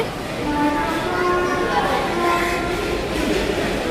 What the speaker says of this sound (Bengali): এই যে আমাদের ট্রেন চলে আসছে